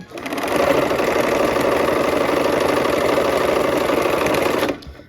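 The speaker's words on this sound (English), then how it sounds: "let's go ahead and sew these together" A sewing machine stitches quilt rows together in one continuous run, a loud steady whirring hum with rapid needle clatter that starts quickly, holds evenly for about four seconds and stops abruptly.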